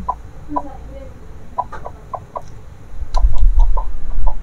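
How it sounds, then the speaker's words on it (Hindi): An Aseel hen clucks in short, agitated bursts, repeated irregularly at close range, with a low rumbling background that grows louder toward the end. "आवाज़ें आप लोगों को आ रही होंगी मुर्गी की परेशानी की"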